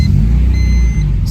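A tuned, naturally aspirated car engine rumbles loudly and steadily up close for a brief moment, with no voices.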